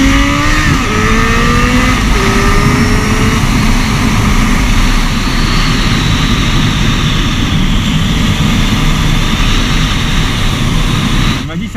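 Suzuki Bandit 1250 motorcycle engine pulling hard under acceleration, a loud continuous ride drone with rising engine tone and steady wind rush close to the rider.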